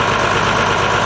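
Oliver 1850 Wheatland diesel tractor engine held at high revs, a loud, close, steady mechanical drone with a rough knocking texture throughout, heard alone.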